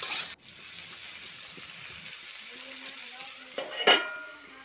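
Onion, garlic and chopped tomato fry gently over low heat in a covered pan, a soft steady sizzle opening and closing with louder clanks as the lid moves.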